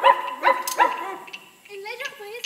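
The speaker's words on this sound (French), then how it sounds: "Un autre chien lui répond." A theatre sound effect of a dog barking in reply sounds as three quick, evenly spaced yaps, followed by softer whining calls. Voices can be heard alongside the barking.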